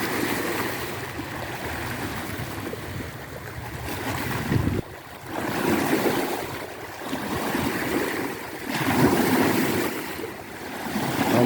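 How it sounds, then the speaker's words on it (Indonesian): Ocean surf rolls in on the shore in repeated surges, each swell rising into a broad roar and then easing, with wind buffeting the microphone and no voices. "Ombak semakin besar ya."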